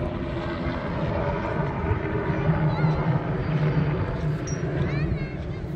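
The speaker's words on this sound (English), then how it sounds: "And we got a helicopter." A helicopter flying overhead at a beach in Destin, Florida, its engine and rotor drone steady and prominent, swelling slightly in the middle, over open outdoor ambience.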